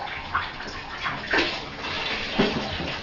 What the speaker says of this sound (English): full this bath is, so I'm going to turn it off.